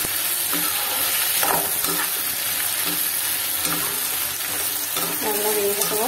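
Mango pickle fries in hot sesame oil, with a steady close sizzle and crackle, occasional stirring scrapes and faint background voices.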